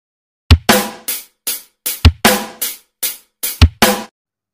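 A drum kit plays an intro pattern in standard tempo: kick, snare and closed hi-hat hits in a steady, close, loud rhythm of about ten sharp strokes, with no voices.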